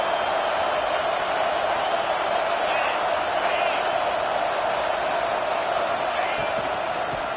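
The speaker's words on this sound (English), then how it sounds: "this crowd imploring its defense to stand firm" A stadium crowd at a college football game in the red zone roars steadily and loudly, a dense sustained wall of noise urging the defense to hold, with no pauses.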